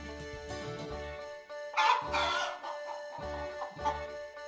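A chicken clucks and calls loudly in a few close bursts over a steady tonal background, with no talking.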